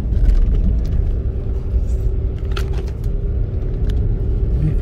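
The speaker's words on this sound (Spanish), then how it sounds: "Ya hay carro, hay un carro allá" A car rumbles nearby on a rural road near a cattle inspection area, a steady loud engine and road drone that holds throughout with no voices.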